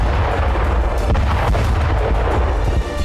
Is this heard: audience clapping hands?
no